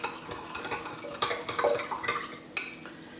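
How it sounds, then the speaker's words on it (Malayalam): A spoon stirring coconut water, grapes, raisins and sugar in a vessel for homemade grape wine, with close clinks and scrapes against the container and no voices. "ഇതെല്ലാം ഇട്ട ശേഷം ശരിക്കും ഇളക്കുക."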